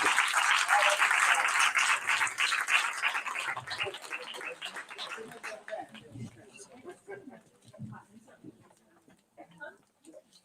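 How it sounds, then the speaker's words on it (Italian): Festival audience applause, loud dense clapping at the start that thins out and fades over several seconds into scattered claps, with voices and chatter underneath. "io farei un applauso anche a lei, anche se non ha finito."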